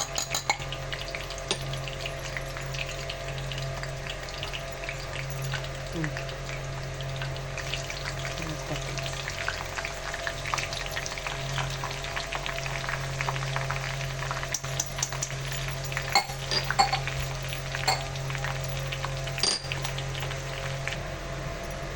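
Oil infused with fenugreek seeds, sesame, coriander and amla heats in a pan on the stove for hair oil, giving a soft steady bubbling sizzle with faint stirring, quiet and continuous under a low background hum.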